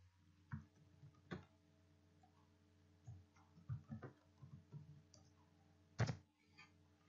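Quiet, sparse clicks of typing on a computer keyboard at a desk, a few isolated key presses scattered over several seconds against a low steady hum, with no talking.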